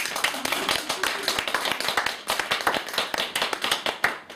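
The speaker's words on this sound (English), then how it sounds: "Give her a round of applause, guys" A small audience claps to welcome author Nicola Simpson for her book Abigail's Rainbow, with individual handclaps distinct and close in an uneven but continuous patter.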